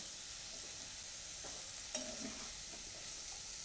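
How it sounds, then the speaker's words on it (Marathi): Spices and chutney fry gently in oil over a low gas flame, a soft, quiet sizzle with a few light scrapes of stirring near the middle. "आणि आपल्या कमी गॅसवर हे 1 मिनिटभर मसाला चांगला परतून घ्यायचा आहे तेलामध्ये."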